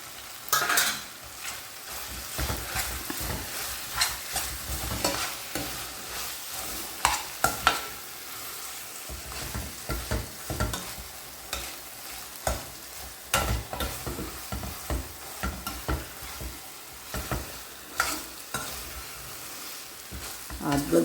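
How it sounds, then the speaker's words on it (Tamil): Mango ginger pickle with ground roasted mustard and fenugreek is stirred in a pan, steady scraping and stirring over a soft continuous sizzle, close and alone. "இப்போது நம்ம வந்து வறுத்து பொடிச்சு வச்சுருக்கிற கடுகு வெந்தயம் இது ரெண்டையும் இப்போ அதில் சேர்த்து கிளறி விட்டு இறக்க"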